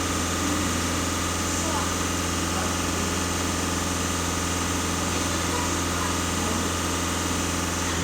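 A 1.6 TDI Volkswagen Passat diesel engine idles steadily, humming continuously with a low, even drone and faint mechanical vibration, no revving throughout.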